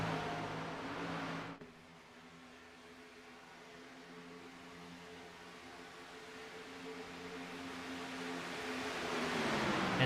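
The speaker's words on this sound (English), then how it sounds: "Number of damaged race cars out there making laps" Race cars lapping in a racing game, an engine drone with layered harmonic whine that fades after a sharp cut, then swells louder again toward the end; no talking.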